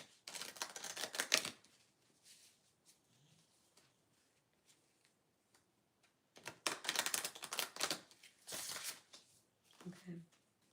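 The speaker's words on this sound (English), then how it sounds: "I shuffle my decks different because my daughter's asleep." A tarot deck is shuffled quietly in bursts of crisp riffling card flicks, two main clusters separated by a near-silent pause, close and soft.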